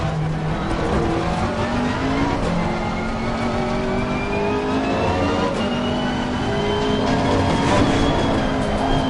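Lamborghini race car in the racing game Assetto Corsa Competizione revving hard and continuously, engine pitch sweeping up and down through gear changes with brief tire squeal, loud and close, with no talk over it.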